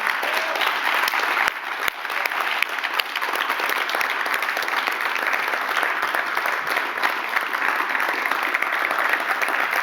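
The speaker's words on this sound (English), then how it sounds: "Can we give ourselves a round of applause here?" A live audience at a mental-health storytelling show in Charlotte, North Carolina gives a long, even round of applause. Many hands clap in a dense, continuous roar with only faint voices beneath.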